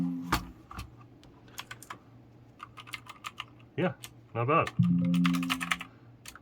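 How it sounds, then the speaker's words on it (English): Clicky blue-switch mechanical keyboard being typed on in brief bursts of sharp clicks, mixed with someone talking and some handling noise, fairly quiet overall. "These are the blue switches, which means they are more clicky. This is a mechanical keyboard"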